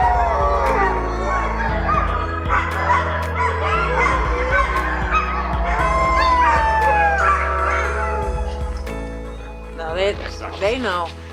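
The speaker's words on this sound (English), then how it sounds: "It's normal for them to howl after dinner." Huskies, working sled dogs, howl together after dinner in a long, sustained chorus with yips and whimpers mixed in, loud and close, while a person talks over the dogs throughout.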